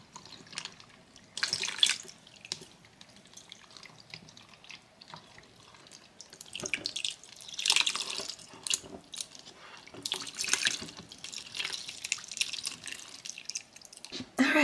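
Water from a tap rinsing paint off fairy dolls in a sink, uneven splashing and dripping bursts that swell and fade, fairly close, with no talk.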